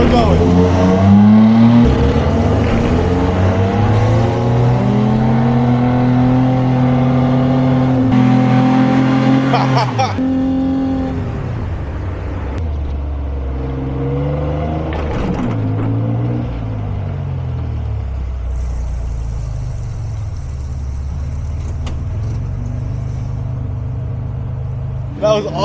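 A car engine loudly revs and accelerates up a hill, its pitch climbing and falling through gear changes, then settling into a lower steady drone; people talk over it.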